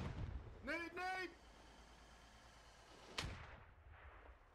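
A short shout comes first, then a single sharp grenade blast in the game Squad cracks out and decays over a second, with faint background rumble afterward.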